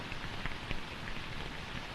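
Pouring rain falls in a steady, dense hiss with scattered louder drops close by, heard alone.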